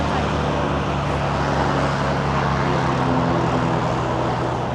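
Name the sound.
Velocity XL5 homebuilt airplane engine and propeller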